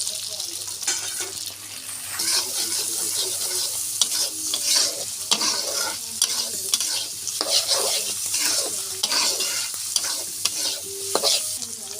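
Noodles and eggs frying and being stirred in a pan, with a continuous loud sizzle broken by repeated scraping stir strokes, no talking.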